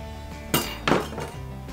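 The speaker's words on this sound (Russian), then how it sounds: "Все это перемешаем с маслом." A utensil clinks against a dish while spices are mixed with olive oil for a baked leg of lamb, two sharp bright knocks followed by softer scraping taps, close by, without talk.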